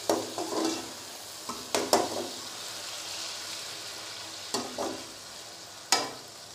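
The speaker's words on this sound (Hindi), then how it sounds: "टमाटरों को मैं अच्छी तरह से भून लूंगी।" Chopped tomatoes frying in oil for masala bhindi give a steady close sizzle, broken by several sharp clicks and scrapes of a spoon stirring the pan.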